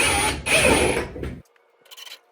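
A screwdriver tightens screws on a Whirlpool Duo dryer during a heating-element replacement, making a close, dense mechanical ratcheting grind for over a second, then a few faint, scattered clicks.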